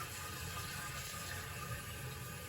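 Water rushes steadily through a household toilet after the supply valve is opened, a constant close hiss of flow with no pauses and no talking.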